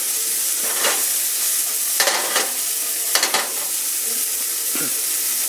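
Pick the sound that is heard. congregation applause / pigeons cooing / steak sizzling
steak sizzling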